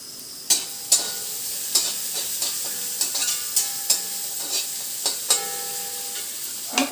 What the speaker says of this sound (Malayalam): എണ്ണ ചൂടായതിനകത്ത് നമ്മുടെ സവാള, ഇഞ്ചി, വെളുത്തുള്ളി ഇത്രയും സാധനമാണ് വഴറ്റുന്നത്.